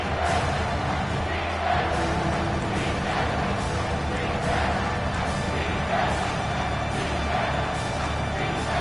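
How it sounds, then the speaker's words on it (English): A stadium crowd roaring at a Clemson college football game, a loud sustained wall of noise with swelling cheers and shouts, under faint commentary. "And with this place rocking, the crowd forces a false start"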